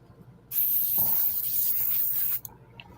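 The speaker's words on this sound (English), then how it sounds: "Got to clean my airbrush out first." An airbrush sprays paint for weathering model freight cars: a sharp, steady hiss bursts on, holds for about two seconds with a slight shift partway, then cuts off abruptly, followed by a couple of faint clicks.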